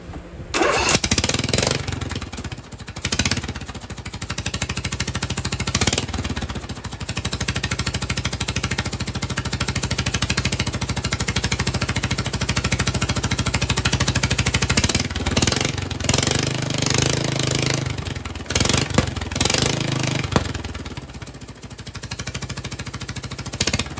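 Craftsman riding mower engine running loud and close, throttled through a homemade gas pedal with no spring and the governor still hooked up, revving up and dropping back in uneven surges for a long stretch without talk.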